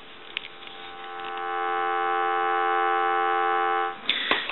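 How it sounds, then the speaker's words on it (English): A repaired NE three-slot payphone gives a steady telephone dial tone that holds for about two and a half seconds, with a few faint clicks before it and handling noise after it stops. "we want to go ahead and give you some dial tones"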